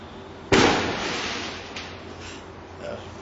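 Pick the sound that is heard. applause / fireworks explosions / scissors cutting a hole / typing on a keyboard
fireworks explosions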